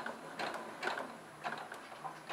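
A sewing machine stitches fabric for a bag, running in a soft, close, steady mechanical whir with faint rhythmic ticking pulses, fairly quiet throughout.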